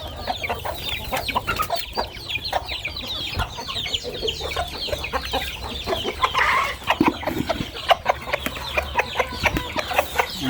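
A crowd of chickens on a poultry farm clucks and squawks constantly, with overlapping calls near and far and occasional louder squawks, no talking.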